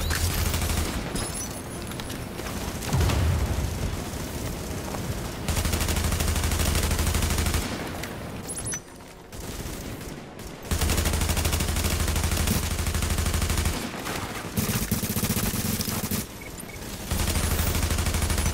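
Sustained automatic gunfire rattles through an online shooter game, dense rapid bursts that run almost continuously with a few brief gaps, loud and heavily compressed, with no talk over it.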